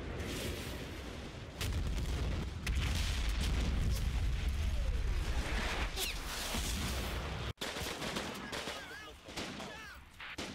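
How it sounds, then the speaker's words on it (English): Artillery barrage in the Combat Mission: Battle for Normandy wargame, with a sustained rumble of booms and crackling gunfire throughout, one sharp loud impact near the end, and narration running over the fire. "On TRP2, the barrage comes to an end."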